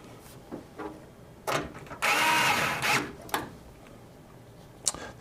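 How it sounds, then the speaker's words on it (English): A screwdriver drives screws into motherboard standoffs during a PC build, with short whirring bursts, one longer run in the middle and scattered clicks, close and fairly quiet, with no talk. "All right, so let's screw everything in."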